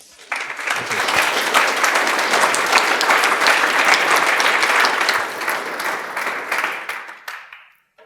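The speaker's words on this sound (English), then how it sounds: "Please give a big warm applause to Dom Kiva-Meyer." Applause from a conference audience at a programming talk, a loud, dense burst of clapping that swells quickly, holds steady for several seconds, then tapers off and fades to quiet.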